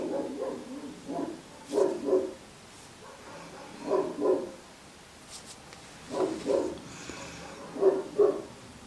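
Dogs bark in short clustered bursts, two or three barks at a time with pauses between, at moderate distance.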